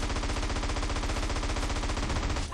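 Rapid automatic gunfire from the video game GTA San Andreas rattles without a break, loud and close, filling the whole stretch before cutting off abruptly at the end.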